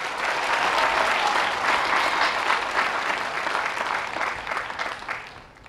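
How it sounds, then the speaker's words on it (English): An audience claps at a university College of the Arts commencement ceremony. The applause is loud and sustained, with dense clapping that fades out toward the end. "let's give her another big round of applause"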